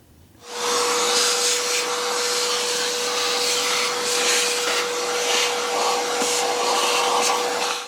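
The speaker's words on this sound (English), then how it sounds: "let's vacuum some of that dirt out of there." A shop vacuum runs steadily and loud, drawing dirt out of the air filter housing on a Jeep Ecodiesel JL/JT, with a constant whine holding throughout after it kicks on.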